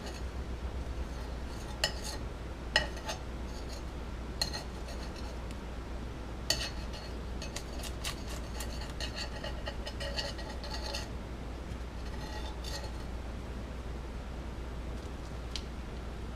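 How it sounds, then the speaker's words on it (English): A spatula scrapes under a fried egg in a pan, with faint scattered clinks and light scraping ticks over a low steady hum, close and quiet. "You just want to loosen it from the bottom of the pan."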